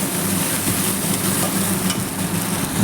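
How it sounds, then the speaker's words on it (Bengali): Chopped tomatoes sizzling and frying in a pan of mustard-chili paste, a steady, close hiss of oil with faint stirring throughout and no talk. "এবার এর মধ্যে আমি দিয়ে দিচ্ছি টমেটো"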